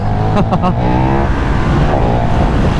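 A KTM 1390 Super Duke R pulls a power wheelie in third gear at 120 to 130 km/h, its engine roaring loud and steady under full throttle with a sustained, rising drone.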